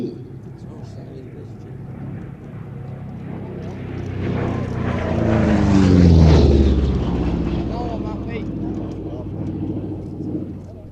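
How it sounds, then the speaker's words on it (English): A P-47 Thunderbolt fighter plane making a flypast at an airshow, its rumbling piston-engine drone swelling to a peak and then fading, with a Doppler pitch drop as it passes and crowd talk in the background. "The lovely P-47 Nellie B."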